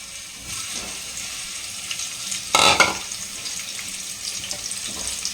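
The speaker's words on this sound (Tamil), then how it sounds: "இந்த எண்ணெயில் வந்து ஆனியன் வந்து பொரிச்சு எடுக்க போகிறோங்க" Half-cooked onion fries in a generous amount of oil for a Tamil eggplant gravy, giving a steady bright sizzle with a brief louder burst of crackling midway and no talking.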